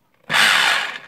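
Makita HR2811FT rotary hammer drill running in hammer-only mode, one short burst of dense rattling buzz lasting under a second that starts abruptly and then trails off, loud and close with no speech.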